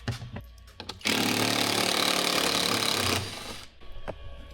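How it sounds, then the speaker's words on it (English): A whirring fan inside a Tesla Model S Plaid, a loud, steady broadband rush that starts abruptly, holds for about two seconds and then stops, with a few faint knocks before and after. "Some kind of fan."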